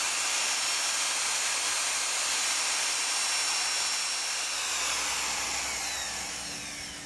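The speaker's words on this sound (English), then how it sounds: "drop your mixer in, give it a quick stir" Paddle mixer on a drill stirring a two-part decorative concrete coating in a bucket, a loud continuous whirring hiss that holds steady, then eases slightly toward the end, with no talk.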